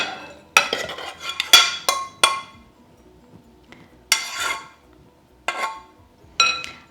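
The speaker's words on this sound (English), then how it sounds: "We're going to tip it into this bowl" Rice and onion filling with salt, pepper and olive oil tipped into a bowl, heard as a series of sharp, close clinks and scrapes of a utensil against the bowl, separated by short pauses.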